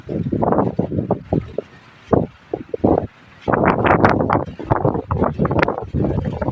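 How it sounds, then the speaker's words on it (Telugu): Strong gusts in an ivy gourd field with a trellis buffet the microphone in loud, uneven low rumbling bursts, with brief quiet gaps between the blasts and no clear speech. "బాగా గాలి వీస్తుంది, అందువల్ల వాయిస్ కొంచెం గట్టిగా మాట్లాడాల్సి వస్తుంది"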